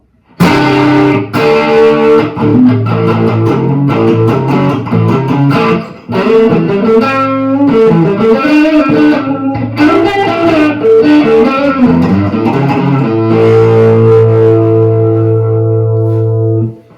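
An Ibanez MC 500 electric guitar from 1979 with onboard active distortion plays loud, distorted chords and riffs with a fuzzy, saturated tone, ending on a long sustained chord, no talking.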